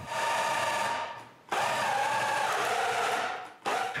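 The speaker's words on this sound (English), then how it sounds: "I can drill this in high speed." A Canadian Tire Maximum cordless drill spins at high speed, giving a steady, close, loud whine that drops away briefly twice and then picks up again.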